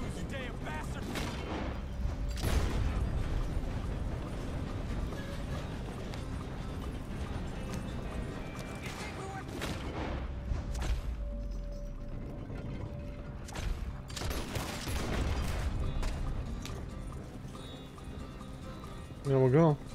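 Horse hooves clip-clop in the open-world western game Red Dead Redemption 2, their faint rhythmic beats mixed with sharp game gunshots and mechanical clicks, while a voice talks over the top.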